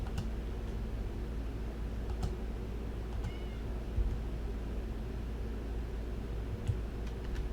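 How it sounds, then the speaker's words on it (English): A pet cat meows now and then, faint and a little distant, over a steady background hiss with a few soft clicks. "My cat, shush."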